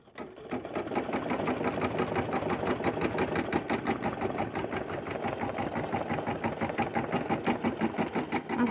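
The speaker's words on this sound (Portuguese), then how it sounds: "Eu vou levar o meu bastidor novamente para a máquina e ela vai concluir aqui para mim" An embroidery machine sews a satin-stitch fill in a hooped fabric, a fast, even mechanical needle chatter that runs continuously and loudly up close, with no voices.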